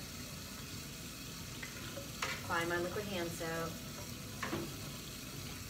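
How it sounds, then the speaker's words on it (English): Tap water runs steadily into a sink at a first aid station for handwashing, a constant hiss throughout with a person talking briefly partway through. "I'm going to turn on some running water"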